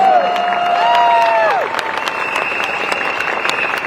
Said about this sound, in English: Give them another big round of applause, all our new candidates.